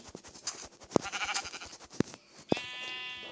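Several short Minecraft sheep bleats ring out, sharp and synthetic-sounding, separated by clicks, followed by a bright harmonic tone at the end.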